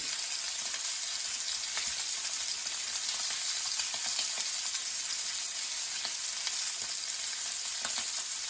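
Steady, close sizzling of hake fillet frying in butter in a pan, a continuous crackle with occasional sharper pops, no voices.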